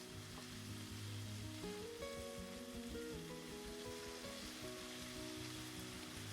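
Beef chuck flap frying in a pan for a whole-wheat pasta dish, a steady dense sizzle and crackle that runs throughout at moderate volume, with faint tonal background music underneath.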